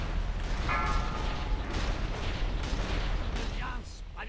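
Heavy cannon booms and rumbling blasts pile into a dense, continuous barrage during a World of Warcraft Icecrown Citadel 25-player raid, with bursts of voice chatter cutting in over the noise.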